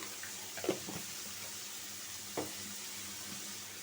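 Onion and spice paste frying in a pan for a beef and potato curry, a soft continuous sizzle broken by a couple of clattering stirs from a spatula.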